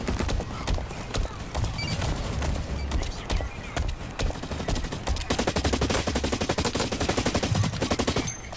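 Gunfire from the Blacklight: Retribution video game, with rapid automatic bursts and single shots crackling almost nonstop and growing into a dense, fast rattle toward the end.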